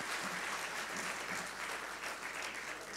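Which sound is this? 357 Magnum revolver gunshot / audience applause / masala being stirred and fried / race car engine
audience applause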